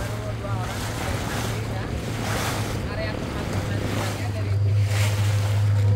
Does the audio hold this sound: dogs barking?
no